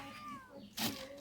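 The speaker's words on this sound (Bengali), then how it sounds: "বিড়াল" A cat meows once near a fish market stall, a short rising and falling cry followed by a brief louder burst of noise, fairly faint and close.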